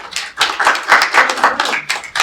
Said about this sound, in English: Oskar, you're not supposed to clap